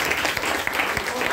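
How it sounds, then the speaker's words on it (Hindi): An audience claps together in a steady, close burst of applause, dense and loud throughout. "ताली बजा सकते हैं।"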